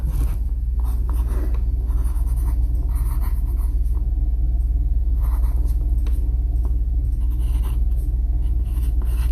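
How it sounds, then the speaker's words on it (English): A name is written at the top of a worksheet, with pencil strokes scratching steadily and close over a constant low hum, with no talk. "so we'd first write our name at the top"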